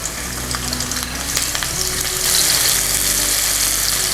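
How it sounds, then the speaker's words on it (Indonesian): Shallots sauté in oil left over from frying potatoes, giving a steady bright sizzle that swells louder partway through, close and continuous with no voices. "Masih di minyak yang sama, kita mau tumis bawang merah."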